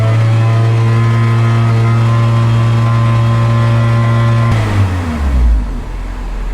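A car engine idles steadily with a strong, even drone, then is given gas and its pitch sweeps upward in a single loud rev near the end.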